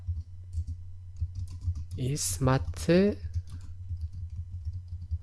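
Typing on a computer keyboard while entering text into a PowerPoint 2016 text box, with soft rapid keystrokes running steadily under a man's nearby speech.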